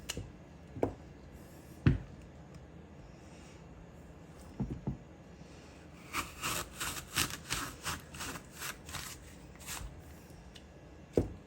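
A hand-crank apple peeler peels, cores and slices an apple into ribbon spirals, giving a run of quick rhythmic scraping and rubbing strokes after a few isolated knocks, close and fairly quiet.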